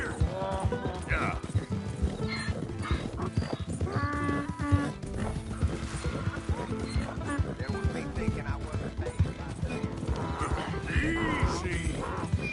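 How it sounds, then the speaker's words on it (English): Hooves clop rhythmically and an animal brays and whinnies within a PS4 video game scene, with music and voices talking over the animal sounds. "It's just a donkey"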